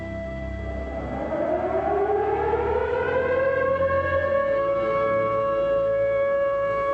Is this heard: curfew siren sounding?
yes